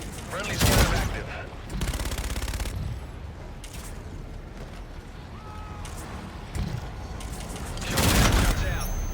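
Gunfire in a team deathmatch video game comes in loud bursts of automatic fire and heavy booms, separated by quieter stretches of ambient game sound.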